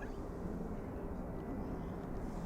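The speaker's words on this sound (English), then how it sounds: "Right, so taxiing, you can see now the Boeing 757, Iceland Air." A Boeing 757 airliner in Icelandair livery taxis at Manchester Airport, heard as a steady low engine rumble and broadband roar that holds at an even level throughout, moderately distant and continuous.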